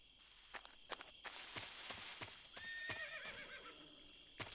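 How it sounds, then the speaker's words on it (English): A horse in the video game Metal Gear Solid 3 whinnies with a wavering neigh amid scattered hoof clip-clops and footsteps, fairly close and alone without talk. "Is that a horse?"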